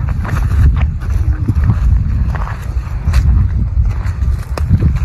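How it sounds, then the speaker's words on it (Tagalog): Strong wind buffeting outdoors while a triangular kite flies high, a steady loud rushing roar with gusty swells throughout and no voices. "At lumakas na yung hangin dito guys"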